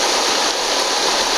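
A river rushes at Coker Creek, Tennessee, a dense continuous roar of flowing water, loud and near, with no voices.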